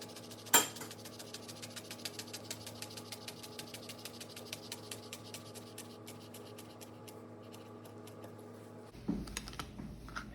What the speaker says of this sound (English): then you just cut very thin strips through that